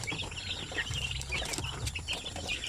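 Month-old Shamo Aseel chicks peep and cheep in a steady, fairly quiet chorus of overlapping high chirps, with soft clucking underneath and no voices.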